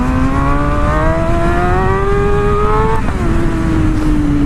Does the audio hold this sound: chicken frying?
no